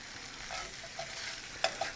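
Home-fried potatoes soften in a pan as the water cooks off, a low steady sizzle with a few soft scrapes of stirring, quiet and close.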